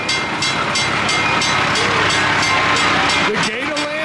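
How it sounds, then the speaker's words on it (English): Gatorland Express train arriving at Gatorland, a steady rumbling clatter with rhythmic clicks drawing near, loud and close, with people talking nearby. "Here comes the train."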